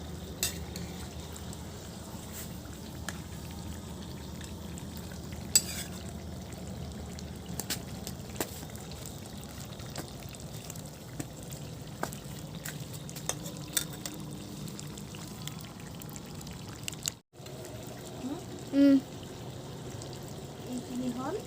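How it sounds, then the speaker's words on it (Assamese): Meat frying in a pan while its water cooks off makes a quiet, steady sizzle with occasional stirring clicks and a voice talking, broken by a brief silence near the end. "আৰু অকণমান পানীটো কমি যোৱালৈ ভজা হ'ব লাগিব মাংসখিনি।"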